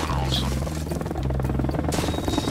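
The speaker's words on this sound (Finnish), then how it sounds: "Vihollisen helikopteri." Enemy helicopter in the video game Arma Reforger, a steady buzzing rotor throb holding a low hum throughout, heard under people talking.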